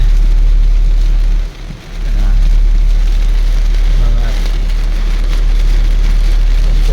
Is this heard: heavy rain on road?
yes